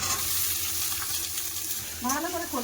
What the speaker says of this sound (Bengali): ভাজা হয়ে গেছে এবার কেটে রাখা সবজি দিয়ে দেবো